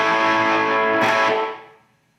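High-gain electric guitar through a modded Epiphone Valve Jr tube amp, run into an attenuator: a thick, distorted chord sounds loud and sustained, then a second hit rings out and decays to quiet within about two seconds.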